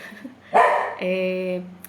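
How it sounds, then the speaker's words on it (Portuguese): A dog in the street gives one sharp bark followed by a longer, tonal yelp, close by and fairly loud against a quiet background. "é a hora que os cachorros passeiam lá na rua"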